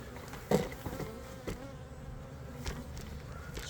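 Honey bees buzzing around an open brood frame in a hive, a faint steady hum with a few close passes and soft knocks.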